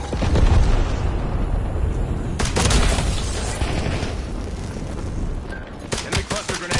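Loud, dense video-game combat with a cluster grenade going off amid heavy gunfire, a broad blast rolling over steady shooting and a sharper burst of bangs near the end; radio-style voices are heard over the battle.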